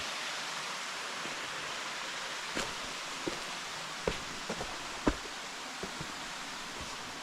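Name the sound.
waterfall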